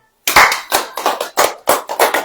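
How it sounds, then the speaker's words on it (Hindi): An audience at a church prayer gathering claps hands in a quick, even rhythm, about eight sharp, close, loud claps following a brief silence. "अब ताली बजाएं।"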